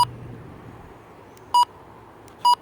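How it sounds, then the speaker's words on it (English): Two short, sharp electronic button beeps from a Midland HH54VP2 portable weather radio sound about a second apart over a quiet hum, each a clean single tone. "you could have the option to either have the button beeps on like this"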